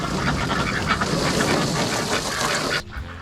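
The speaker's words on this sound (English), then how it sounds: "So we raise the ducks to an extent." Pekin ducks on a homestead quacking continuously in a noisy flock, loud and close, with overlapping calls filling nearly the whole stretch before cutting out abruptly near the end.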